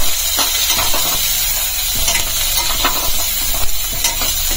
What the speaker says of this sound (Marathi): 2 चिरलेले कांदे, कांद्याला आपण छान भाजून घेऊया।